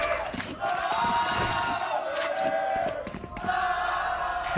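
A large esports arena crowd at the VCT Americas Grand Final between LOUD and NRG roars and cheers continuously, with whoops and shouts swelling and dipping, loud and sustained.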